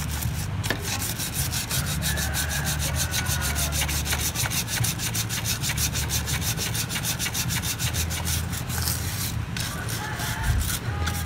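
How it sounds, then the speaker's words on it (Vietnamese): A brush scrubs the chain sprocket of a motorcycle in rapid, steady back-and-forth strokes that make a dense, close rasping sound. It runs without a break and no one speaks. "Mình sẽ cọ luôn cái phần dĩa."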